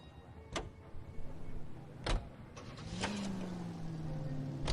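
Nash Super 600 car in L.A. Noire, quiet scene with sharp door thuds and clicks, then a low engine hum starting and holding steady toward the end.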